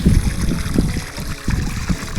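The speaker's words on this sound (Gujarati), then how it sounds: "ગાયો માટે પણ પાણી ભરી રહ્યા છે" Water splashes and gurgles steadily in short surges into a cattle trough filled from an old well, a close, continuous pouring with rhythmic sloshing.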